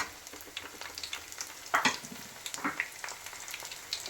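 Steady oil sizzle as paneer fries, with scattered sharp pops and crackles like popcorn bursting, close and moderately quiet, no talking.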